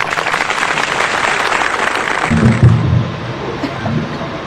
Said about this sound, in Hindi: जोरदार तालियां डॉक्टर जयंत शाह।